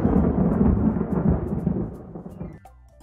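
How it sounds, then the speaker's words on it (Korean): Blue-tinted vinegar water is poured onto a baking soda volcano, giving a loud, continuous rushing fizz that holds steady before tapering off near the end. "파란 색깔 식초물을 한번 부어볼게요."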